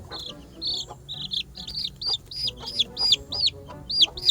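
Week-old baby chicks peep in rapid, high-pitched bursts, calling for the mother hen, loud and close, with a busy repeating rhythm throughout.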